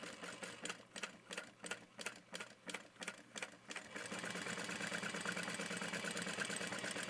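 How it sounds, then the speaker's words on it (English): A sewing machine stitches around the edge of a small quilted bag with Decovil Heavy interfacing, first in short rhythmic bursts of stitching, then running continuously at a steady hum. "Just going to sew around with my foot up against the outside edge of the Decaville Heavy"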